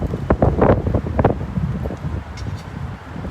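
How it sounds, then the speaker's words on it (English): Wind buffets an outdoor microphone at a Pride flag-raising ceremony on a windy day, giving low rumbling gusts that are strongest early on and then ease into a softer, steady rush. "It's a windy day."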